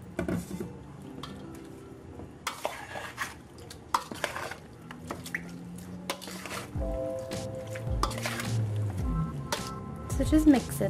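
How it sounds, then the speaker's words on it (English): Seasoned shark, dressed with Old Bay and green seasoning, being mixed by hand in a bowl, with wet squishing and soft clinks of a utensil against the dish, close, while a voice talks over it. "So just mix it really well. Use your hands if you like."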